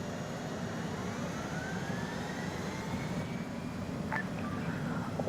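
Military aircraft engines spool up before takeoff in a military flight simulation game, a steady broadband roar with a faint rising whine, continuous and fairly loud throughout, with a couple of brief tonal beeps near the end.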